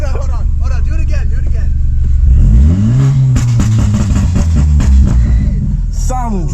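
A straight-piped BMW F30 328i with a Stage 2 tune revs hard, its loud exhaust rising into a rumbling roar while excited voices talk over it close by.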